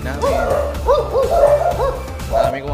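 Several dogs bark and yip close by at a family home, with the barks coming in quick repeated bursts. A person talks over them.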